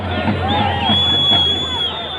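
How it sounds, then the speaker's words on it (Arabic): Stadium crowd cheering for a football coach, a dense sustained roar of voices with whistles and shouts, steady and loud throughout. "الجماهير تشجع المدرب عويسيس"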